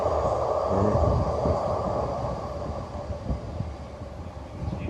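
A train rumbles past nearby in Kutztown, Pennsylvania, a steady low roar with a faint high whine that fades slightly over the few seconds, with no voices over it.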